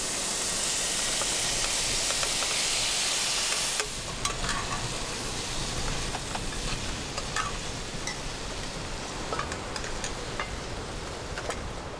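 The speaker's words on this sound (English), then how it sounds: "After the vegetable spice mix has been fried in vegetable oil, the drained ackee is added" Drained ackee fries with a vegetable spice mix in vegetable oil in a Jamaican kitchen: a steady close sizzle, louder for the first few seconds, then quieter with scattered stirring clicks.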